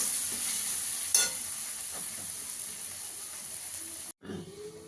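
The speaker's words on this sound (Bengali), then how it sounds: "আলুটা দিয়ে একটু ভালো করে কষিয়ে নেব।" Potatoes sizzling and being stirred in oil and spice paste for a Bengali fish kalia, a steady close frying hiss with scraping stir strokes, one sharp clatter early on and a brief break near the end.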